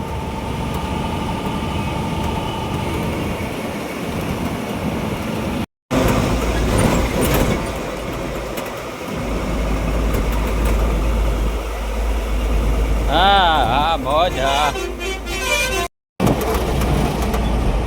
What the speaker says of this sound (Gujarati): લક્ઝરી વાળા પેસેન્જરની ટ્રાફિક છે